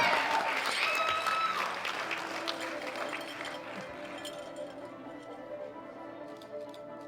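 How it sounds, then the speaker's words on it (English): An audience at a sub-junior and junior women's world powerlifting championship claps for the 84 kg and 84+ kg winners, loud at first and then slowly fading over several seconds. "Big round of applause for all of our winners."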